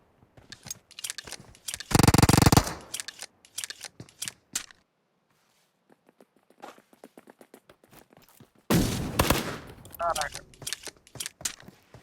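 Pistol gunfire in PUBG Mobile: sharp shots in quick bursts, some spaced and some clustered, with two loud, noisy blasts between them and game voice callouts at times.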